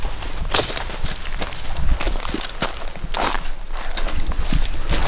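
Deer running through brush near a farm pond, a quick irregular run of crunching, snapping footfalls and rustling vegetation, fairly close and moderately loud, with no talking.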